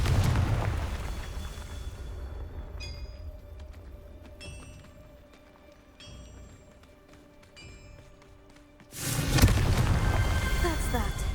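A loud burst from a Confringo fire spell in the Hogwarts Legacy video game erupts near the end after quieter game ambience with chiming effects, the blast rumbling on heavily.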